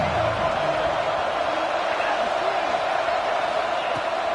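A college football stadium crowd cheers and roars ahead of a big third down, a dense, steady wall of noise that holds loud and unbroken throughout.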